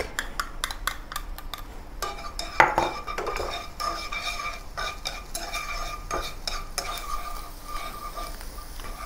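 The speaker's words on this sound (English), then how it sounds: "Heat some oil in a pan and saute the chopped ginger" Chopped ginger and garlic sauté in oil in a pan, with a spatula scraping and clinking against the metal in quick irregular strokes over a soft, steady sizzle.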